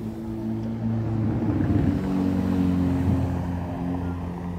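A Ferrari SF90 XX supercar drives past at a supercar gathering, its engine a steady low drone that rises briefly as it passes, with faint voices in the background.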